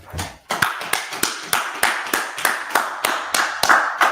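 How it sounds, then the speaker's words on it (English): Steady rhythmic hand clapping, about a dozen sharp, close claps at an even pace with no other sounds. "Go ahead, clap it up."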